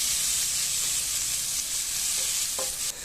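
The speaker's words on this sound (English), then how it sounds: "To it add 2 tomatoes chopped. Saute them till they are semi-soft." Two chopped tomatoes sautéing in a pan for Goan potato bhaji, a continuous close sizzle with faint stirring and a small clink near the end.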